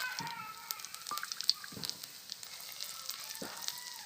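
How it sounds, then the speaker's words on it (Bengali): Bay leaves, dried red chillies, cloves, cardamom and whole cumin frying in mustard oil left over from frying fish, with a faint, steady sizzle, small crackles and occasional utensil clinks. "মশলাগুলোকে হালকা করে ভেজে নেব।"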